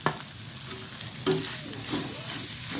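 Liver pepper dry with garlic frying in a pan as it is stirred, a steady sizzle with scraping strokes of the spoon and one sharper clatter.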